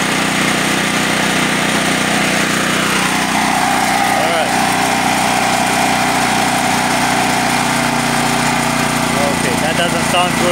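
A Firman H07552 generator converted to natural gas runs just after its choke is released, a loud steady small-engine drone with a shifting, slightly uneven tone across the whole span.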